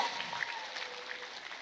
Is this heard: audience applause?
yes